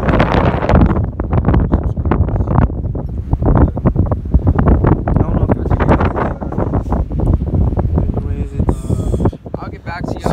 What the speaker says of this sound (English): and it is windy